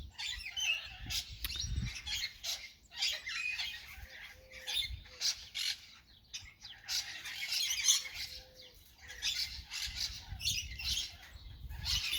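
Macaws in an aviary squawk and chatter up close in repeated harsh bursts, with softer chirps and rustling between calls.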